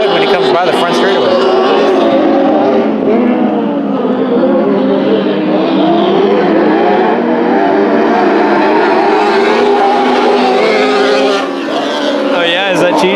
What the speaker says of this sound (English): Look at the motor he's got under the hood when he comes by the front straightaway